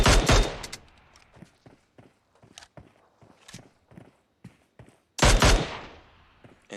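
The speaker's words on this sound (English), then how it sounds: "The Mini trying to get some long distance shots, but to no avail." Gunfire in a video game: strong blasts at the start and again near the end, with scattered, sharp, quicker shots and patters in between, all without commentary over them.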